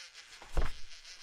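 Wasps buzzing as a radio drama sound effect, a faint brief insect drone swelling for a moment then fading, with no voices.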